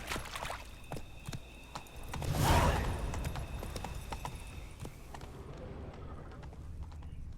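A horse clip-clops along in The Witcher 3, with hoofbeats under game ambience, a swelling whoosh partway through, and a faint in-game voice in the background.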